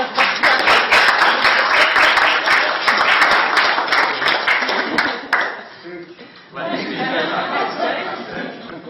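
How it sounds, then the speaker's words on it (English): Loud, dense audience applause from a live-stream event crowd, sustained for several seconds, dipping briefly and then rising again with scattered chatter and laughter mixed in. "they deserve a round of applause"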